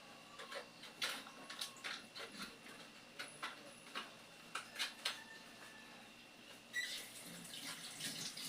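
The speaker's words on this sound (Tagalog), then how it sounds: "Lagyan natin ng konting tubig." Small amount of water added to a pan of paksiw fish (sapsap, cooked with vinegar), heard as a quiet run of splashy, faucet-like pours and trickles with short bursts, no talking.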